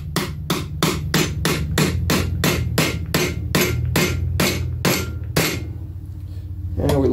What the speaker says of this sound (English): Get our bearing going in there. Grab my hammer that now has grease all over it.